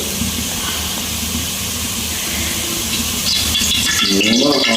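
Ghee hits a hot pot for biryani with a continuous hissing sizzle that swells louder partway through and stays strong, joined near the end by a brief wavering tonal whine; no one speaks.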